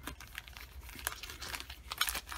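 Panini trading cards from a 2016 Contenders Draft Picks blaster box are shuffled by hand, giving soft, quick crinkling and flicking sounds in close, uneven bursts.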